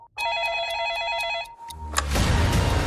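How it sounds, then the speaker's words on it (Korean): A telephone rings in a hotel room in the Philippines, its bright electronic trills repeating in short, fast bursts, loud and close, before cutting off into a louder burst of noise and rumble. "7월 1일 정도에 필리핀에 있는 호텔로 전화가 와요."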